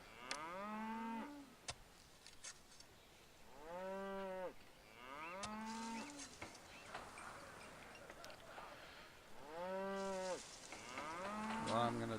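Cattle on ranches in the city-building game Pharaoh moo repeatedly, several drawn-out lowing calls spaced across the span, fairly clear over a faint background of game ambience.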